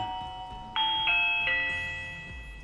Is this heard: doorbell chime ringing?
yes